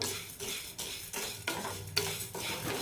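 Grainy scraping and rustling of dry urad dal and chana dal being stirred in a hot pan over medium flame, in repeated strokes with short pauses, close up and steady, no talking.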